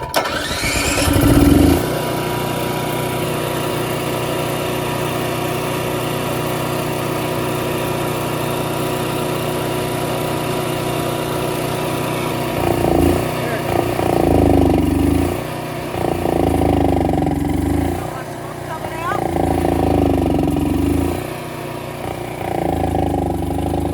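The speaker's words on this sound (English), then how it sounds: "then you fire the generator back up again" An RV generator cranks and catches to life, then runs with a steady droning hum while being carbon cleaned; toward the end its pitch and loudness surge and sag in uneven waves as it bogs under load.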